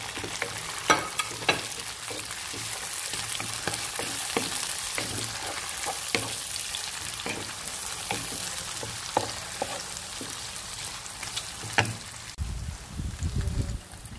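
Garlic, onion and tomato sizzle and fry in a pan, a continuous close crackling hiss with scattered stirring clatters, then a brief louder rumble at the end.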